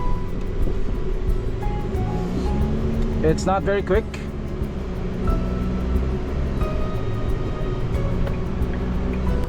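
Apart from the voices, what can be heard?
MG TRQ pickup diesel engine clatter heard in cabin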